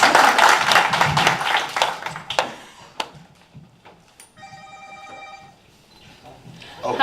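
A cell phone rings in a public meeting room, a repeated electronic trill that sounds briefly after clapping and a spoken voice, fairly clear in the quiet moment.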